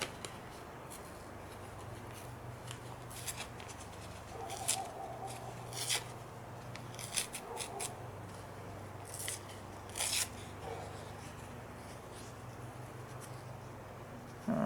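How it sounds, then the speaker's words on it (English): Sheets of rice paper are torn into pieces for an art journal page, with short crisp ripping bursts scattered irregularly over a quiet background, close to the microphone. "I'm just going to tear some of this rice paper up into pieces"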